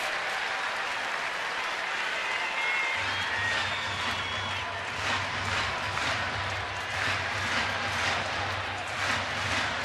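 A baseball stadium crowd at a Toronto at Baltimore game cheering, a broad, sustained roar with clapping that swells and stays loud, while a low steady hum runs beneath from partway through.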